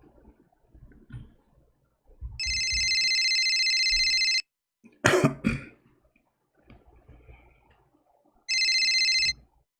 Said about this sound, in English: I'm calling his private cell phone.